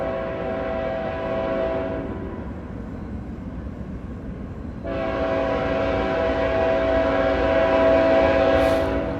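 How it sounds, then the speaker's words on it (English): A CSX freight train on the Henderson Subdivision in Hanson, Kentucky sounds its horn in long, loud blasts, with a brief lull between them, over a continuous rumble of rolling cars. "so we can hear the train as it comes by"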